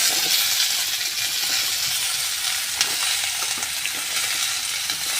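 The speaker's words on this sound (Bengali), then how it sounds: "এবারে আমি আলুগুলো কড়াই দিয়ে দিচ্ছি" Potatoes hiss and sizzle in a hot wok, a steady bright crackle with faint metallic taps and stirring scrapes, close and continuous.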